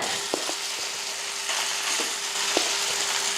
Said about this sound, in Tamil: இப்போ இதில் வந்து சாதம் போட்டு கிளறிக்கலாம்